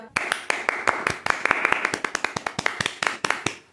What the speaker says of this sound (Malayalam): എടൊന്ന് കൈയടിച്ചടാ